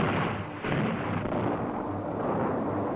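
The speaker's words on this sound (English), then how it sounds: "they drilled holes in the rock and loaded them with dynamite." A dynamite blast in a rock canyon wall during dam construction produces a heavy, continuous rumbling roar. It fills the whole stretch with a brief dip partway through and no voices.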